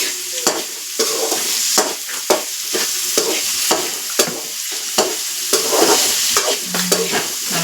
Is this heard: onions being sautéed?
yes